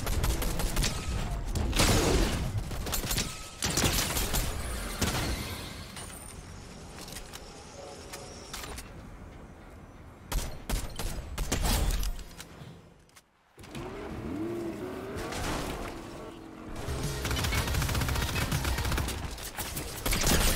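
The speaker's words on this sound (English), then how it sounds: "you're getting shot from both angles" Video game gunfire: dense, loud volleys of shots firing almost continuously from near and around, with brief lulls and a short silent gap, mixed with mechanical game sounds and little talk.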